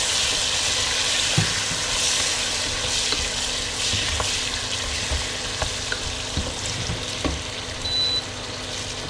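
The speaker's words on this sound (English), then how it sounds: "So now we can add our onion." Onion dropped into a pan of garlic frying for Ghanaian jollof rice, giving a steady broadband sizzle with occasional stirring clinks and knocks, close and continuous throughout.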